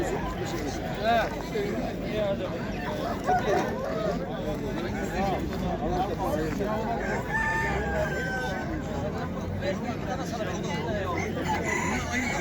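Chickens cluck and a rooster crows amid a busy poultry market in İzmir, Turkey, with people chattering and calling out nearby throughout.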